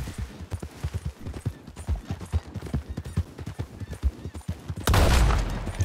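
Horse hooves clop rhythmically in Red Dead Redemption 2 Online, and a loud gunshot bursts near the end over the galloping.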